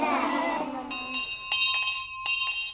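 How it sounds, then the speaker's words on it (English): A big school bell rings out for a pretend Victorian lesson, its clear metallic tone sounding in several distinct strikes with ringing overtones that hang between hits. "The big bell means that a Victorian lesson is about to begin."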